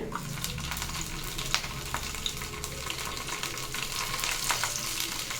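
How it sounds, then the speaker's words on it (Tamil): Mustard seeds and a split green chili crackle and sizzle in hot oil, a steady close frying hiss with scattered sharp pops throughout, no talking. "நல்லா எண்ணெய் காந்திருச்சு இப்போ கொஞ்சமாக கடுகு போட்டுட்டு ஒரே ஒரு பச்சை மிளகா இப்படி ரெண்டாக உடச்சி போட்டுக்கிறேன்"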